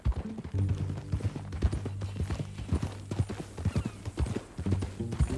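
Horse hooves clip-clopping at a steady walking rhythm in the Red Dead Redemption 2 video game, close and fairly quiet, with a brief whinny and low tonal game sounds underneath.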